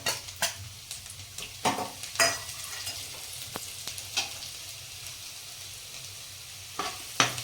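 Chopped dried garlic and cumin fry in a pan for vegetable pulao, a soft steady sizzle punctuated by intermittent sharp spatula strokes and scrapes, close by with no talking.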